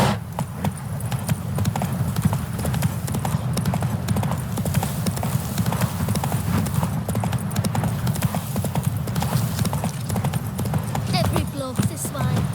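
Horse hooves clip-clopping in a fast, steady gallop in The Witcher 3 video game, loud and close throughout with a voice speaking over the rhythm.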